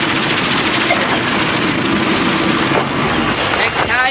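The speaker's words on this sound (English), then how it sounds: "The royal family use helicopters to visit the more isolated parts of Thailand." A Thai royal family helicopter gives off a loud, steady roar of rotor and engine noise that stays even and close throughout, with a faint voice beneath it.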